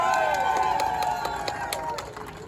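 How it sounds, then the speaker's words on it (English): Crowd at an anti-Trump Democratic Socialists of America rally in New York City, clapping and cheering loudly and continuously, with scattered sharp claps over a dense roar of voices. "You can actually all clap louder for that one,"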